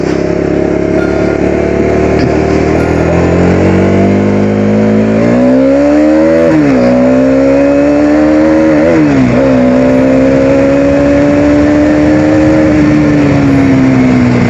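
A Bajaj Dominar 250 motorcycle engine revs and accelerates while riding through several gear changes, its pitch climbing, dropping, then climbing again, loud and close throughout.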